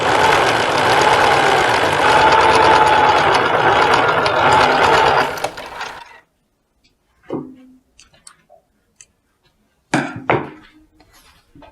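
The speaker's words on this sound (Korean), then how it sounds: "반대쪽도 똑같은 방법으로 2번 박음질 해줍니다." A sewing machine runs in one continuous loud whirring burst for about six seconds while stitching dress fabric, then stops, leaving quiet fabric handling and a few soft knocks.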